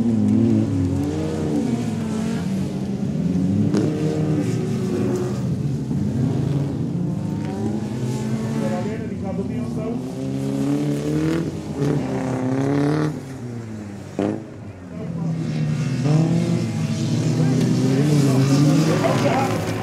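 Autocross cars racing on a sand track at a Gele Draken Cross event in Biervliet, engines revving and droning continuously at mid distance, rising and falling as they pass, with people talking over the noise.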